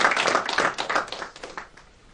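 Audience at a book launch event clapping, a fairly close burst of scattered applause that gradually thins and fades out within about two seconds.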